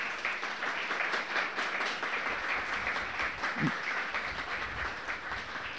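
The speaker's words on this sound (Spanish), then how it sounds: "Juan Núñez, a quien le damos un fuerte aplauso primero" Applause from an audience at a formal cultural event honoring a guest, a steady even wash of clapping across the whole span with no speech over it.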